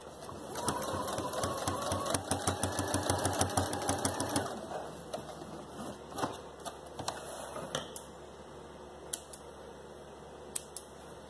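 A sewing machine stitches a small boot in a quick rapid run of needle clatter that stops after a few seconds, followed by faint scattered clicks and handling noises in a quiet room.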